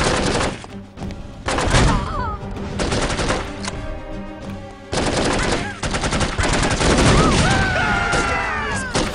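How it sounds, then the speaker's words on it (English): Weapons fire in the spy shooter game No One Lives Forever, several loud bursts of rapid shots and thumping blasts separated by short pauses, with brief chirping game effects between them. "Grenade launcher."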